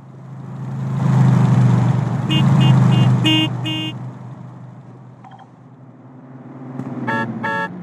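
A car horn in Grand Theft Auto San Andreas honks in several short, loud toots over a rumbling engine, with a later cluster of quick beeps near the end.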